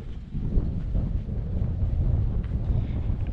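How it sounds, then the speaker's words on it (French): Autumn wind on the Combalou plateau above Roquefort buffets the microphone in a steady low rumble, loud and continuous with slight gusting and no voices. "Avec un bon vent d'automne qui pour l'instant nous rafraîchit."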